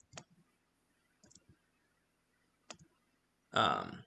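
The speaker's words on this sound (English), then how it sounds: "because I'm right clicking" Computer mouse clicks, three separate short, faint clicks spaced about a second apart in near silence, the second a quick double, before a voice starts talking.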